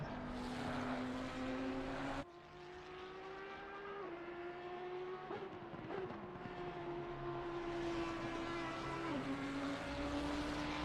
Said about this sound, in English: That Audi just has the nicest downshift sound of any car.